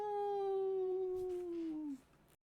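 A person's voice imitates a gnoll blowing an ox-horn war horn: one long sustained howling tone that slowly sags in pitch over about two seconds, then cuts off abruptly.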